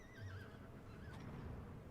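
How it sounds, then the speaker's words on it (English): A horse neighs in a loud, wavering whinny, with faint hoof clip-clops underneath, heard on its own without talk. "A majestic horse."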